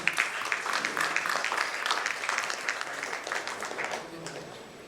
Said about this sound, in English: I see the applause is slightly dying down.